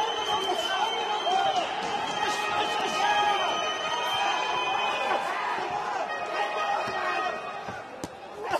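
Crowd at a live MMA fight in Frankfurt rising into cheers and shouts during a late-round exchange, a broad roaring arena wash beneath a commentator talking.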